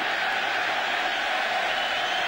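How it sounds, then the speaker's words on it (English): A Bronx stadium crowd at a 2004 Twins playoff game lets out a sustained, sarcastic cheer aimed at the plate umpire, a dense, steady roar of many voices at a distance without a clear peak. "the crowd with a sarcastic cheer of the plate umpire Wagner"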